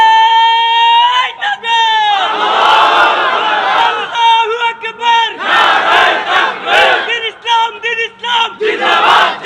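A large crowd chants slogans loudly in unison, rhythmic bursts of many voices rising and falling over about nine seconds, close and dense with overlapping shouts between lines.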